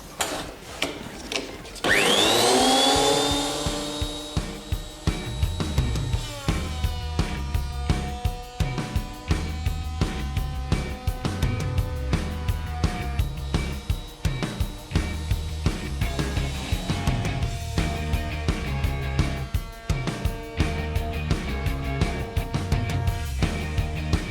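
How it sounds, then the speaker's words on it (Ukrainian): A wood thickness planer starts with a loud roaring whine and keeps running with a dust extractor, a dense steady machine drone with rhythmic ticking pulses throughout while a board is fed. "Ось ми налаштували наш рейсмус і пробуємо вмикати його."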